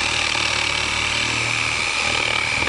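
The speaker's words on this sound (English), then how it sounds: "use your reciprocating saw to cut out the rough opening" A reciprocating saw cuts a rough opening in a roof, a loud, steady buzzing drone that holds constant and close throughout with no pauses.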